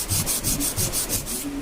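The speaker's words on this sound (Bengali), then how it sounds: "তো আমরা ঘষে ঘষে এটাকে একদম নতুনের মতো করব, কালার টালার করে।" Steady rhythmic rubbing strokes on a welded Pulsar 220 motorcycle footrest holder, about eight even back-and-forth passes, close and moderately loud with no talk.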